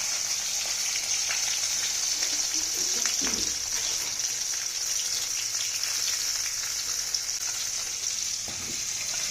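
Fennel seeds and small shallots sautéing in a pan for a mushroom kurma, giving a steady close sizzle throughout with a few brief stirring scrapes near the middle and end.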